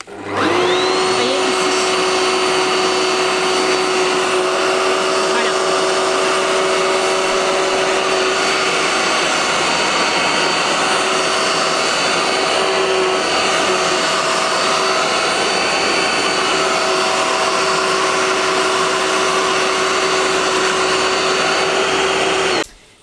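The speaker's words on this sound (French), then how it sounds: "c'est un aspirateur qui est un peu bruyant" A loud vacuum cleaner whirs continuously at close range for over twenty seconds, its high whine steady from start-up until it shuts off.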